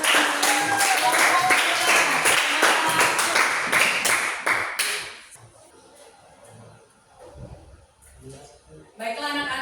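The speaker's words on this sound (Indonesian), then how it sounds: "Oke, tepuk tangan untuk teman-teman" A classroom of schoolchildren claps for their classmates after a group presentation, a burst of sharp, rapid handclaps for about five seconds that fades into quieter room noise before a few more claps return.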